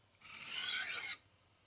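A knife blade is pushed across a 200 grit vitrified diamond stone in a single long, close, gritty rasping stroke lasting about a second, with quiet before and after.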